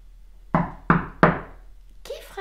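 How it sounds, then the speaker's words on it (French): Three sharp, loud knocks on a door, evenly spaced and close, each ringing briefly before silence, followed by a faint voice. "Mais qui frappe à la porte?"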